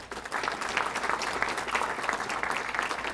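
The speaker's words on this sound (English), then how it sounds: "Let's hear a round of applause for Tiffany" An audience at a county government presentation claps steadily for a few seconds, a dense patter of many hands with no voices on top.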